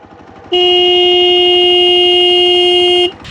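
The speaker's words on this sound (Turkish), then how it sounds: "Kornaya asılmış olmama rağmen Pierre sesimi duyuramadım." A single loud, steady horn blast from a Hero XPulse 200 motorcycle held for about two and a half seconds, a flat sustained tone close by.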